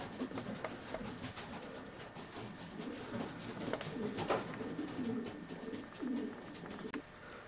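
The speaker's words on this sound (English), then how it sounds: "This is champion Fair Oak Rocket, Trevor's 1996 Saints National winner. He's a bush art pigeon" A racing pigeon, a bush-art cock raced on widowhood, coos softly in a loft amid a steady murmur of other birds, with occasional faint chirps and rustles throughout.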